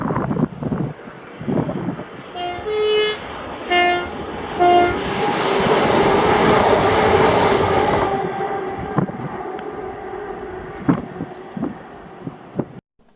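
A ScotRail passenger train from Edinburgh to Glasgow Queen Street passes through Magiscroft, sounding several loud two-tone horn blasts before rushing by with a broad roar and rattle, then clanking wheels fading away amid wind noise.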